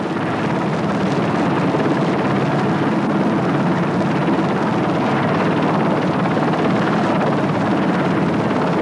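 A helicopter flies close overhead during an in-flight refueling of an ultralight aircraft, its loud, steady rotor roar and engine drone filling the whole stretch without pause.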